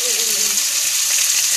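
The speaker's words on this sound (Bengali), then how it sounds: "আর এখানটায় দেখো আলু ভাজা শুরু করে দিচ্ছে" Potatoes frying in a pan at a home feast where chowmein is also being made, a steady close sizzle with a faint voice briefly at the start.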